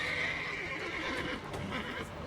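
Loud horses in a video game give a drawn-out whinny, neighing and snorting over a continuous background of game sound, close and prominent throughout.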